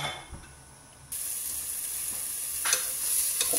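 Ginger frying in a little oil for chicken cooked in wine: a quiet start, then the sizzle jumps up and holds steady, with a couple of sharper crackle bursts toward the end.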